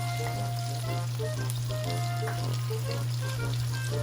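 A pound of shrimp stirred in a hot pan sizzles loudly and steadily, with constant crackling and spattering and no voices over it.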